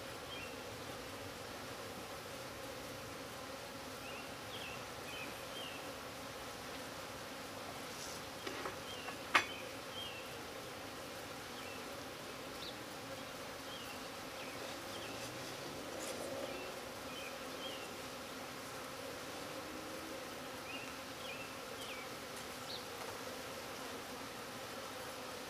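Honey bees buzz steadily around a backyard hive on a quarter-acre homestead, a dense droning swarm heard close, with a few brief knocks from nearby hive handling.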